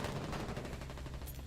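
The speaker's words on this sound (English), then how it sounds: "He's shooting at us." Sustained gunfire in the World War II-inspired online war game Foxhole, a loud continuous barrage of rapid shots blending into a dense roar throughout.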